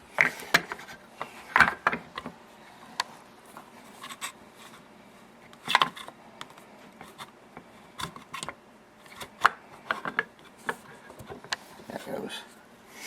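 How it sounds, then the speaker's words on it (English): Scattered light metallic taps and clicks of a hammer on a punch, driving a pin from an AR15 upper receiver, irregular and fairly close, with quiet handling noise between the strikes. "We'll hammer this one out a little bit more."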